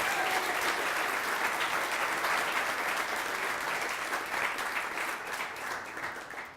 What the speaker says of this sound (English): So if we could just give a round of applause for the Griffith Centers for Children.